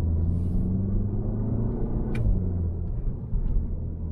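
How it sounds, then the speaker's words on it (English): A VW Golf 7 GTI engine in sport mode with manual shifting: a low, droning rumble with one sharp pop partway through, then the drone carries on. "It has a very deep and fruity pop on upshift"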